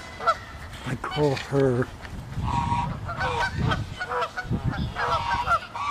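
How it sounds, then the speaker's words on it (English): An angry mother goose honks loudly and harshly in a few repeated bursts, close by, with a person talking in between the calls. "The angry mother goose."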